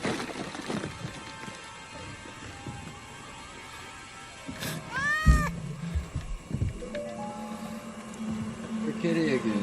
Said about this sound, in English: The kitty again.